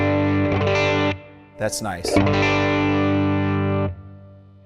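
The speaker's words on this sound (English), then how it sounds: "I'm going to adjust the gain on the amplifier" Electric guitar played through a Fender Mustang GT amp on a tweed model with the gain raised, giving a sustained distorted chord that rings, then a brief strummed burst and another long held chord fading out, with a short spoken remark in between.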